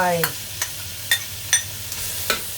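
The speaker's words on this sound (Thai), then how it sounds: "ใส่กิมจิลงไปผัดให้หอมก่อนนะคะ" Kimchi stir-fried in a pan for kimchi fried rice: a continuous close sizzle broken by several sharp scraping strokes of a spatula, with no talking.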